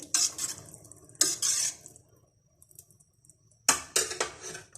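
A spoon stirs creamy potato soup with added spring onions in a pot, giving three short bursts of scraping and clinking with quiet gaps between them.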